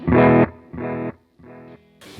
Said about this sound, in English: And I have an 1/8 note delay.